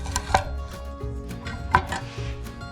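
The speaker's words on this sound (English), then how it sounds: "if you carefully slice it in half" A knife cuts a red rosehip in half on a board, giving a few sharp, close taps and crisp cuts at an uneven pace, with a faint low hum underneath and no voices.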